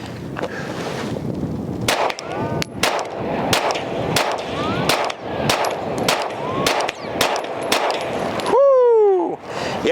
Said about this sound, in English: these are going to be the first rounds to the new Sig P320 Spectre Comp